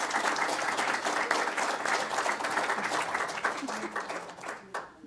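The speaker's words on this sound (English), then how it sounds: "please give them another round of applause" Audience applause for two speakers at a research talk event: full, dense clapping from a crowd that holds steady, then thins into scattered last claps and fades at the end.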